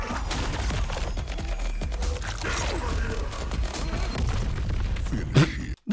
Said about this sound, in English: The fucking explosion.